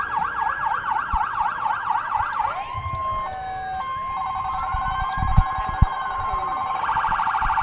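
Loud emergency vehicle sirens wail up and down at a parade in Orland Park, then switch to a steady high tone and a fast warble, with traffic rumbling underneath.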